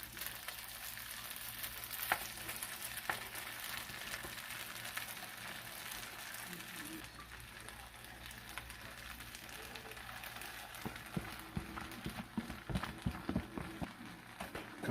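Sausages frying and being stirred in a hot pan for a sausage, egg and rice stir fry, giving a steady broadband sizzle throughout with scraping stir sounds and clatter growing busier toward the end.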